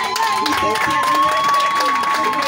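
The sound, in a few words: applause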